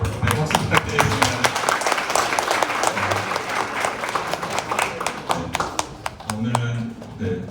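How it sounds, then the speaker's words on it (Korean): Audience clapping at a proposal-style matchmaking meeting event, with a burst of distinct, sharp hand claps that fades into scattered claps. Voices murmur underneath and rise near the end. "박수 부탁드리겠습니다."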